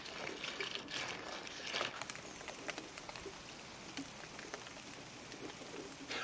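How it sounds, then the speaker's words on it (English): Steady light rain patters outside a garden potting shed, a faint, even hiss with scattered drips, quiet and continuous with no voices. "while the rain is still falling outside"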